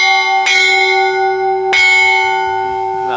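Church bell with no clapper at S. Maria, Castel del Piano, struck twice. Each loud, close strike rings out in bright, sustained metallic tones that hum on between hits.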